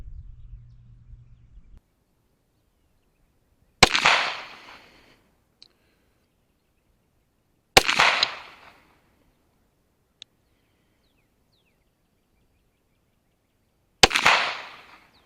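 Three sharp, loud pistol shots from a Sig Sauer M18X fitted with a Sig Romeo M17 sight, spaced several seconds apart, each cracking out and then fading, with a faint low rumble and a couple of small clicks between them.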